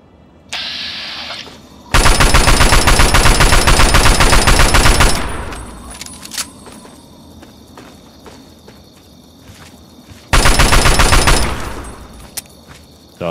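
Two long bursts of continuous automatic gunfire in Fallout 3, a weapon emptied until its magazine runs dry, loud and close, separated by quieter ambient game noise and scattered footsteps.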